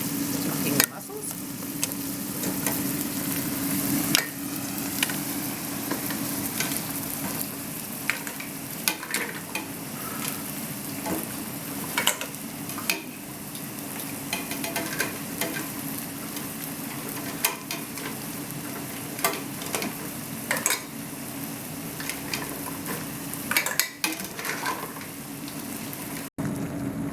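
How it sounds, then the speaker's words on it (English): Mussels cooking in a pan for a fish pie with prawns and John Dory, a long steady sizzle and bubbling with frequent clicks and clatters, close up, with no clear voices. "it's a very quick process cooking the mussels"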